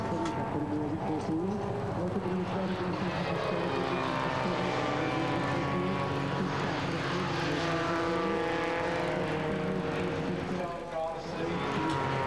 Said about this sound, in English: That's my personal helicopter.